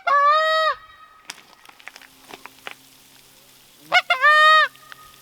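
Geese honk loudly in two separate bursts of harsh, nasal calls at the start and end, with scattered clicks and light tapping in the quieter stretch between them during an outdoor goose hunt.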